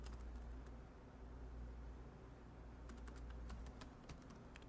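Quick clusters of computer keyboard keystrokes entering a layer name in GIMP, light clicky taps over a low steady hum, sparse at first and then denser near the end.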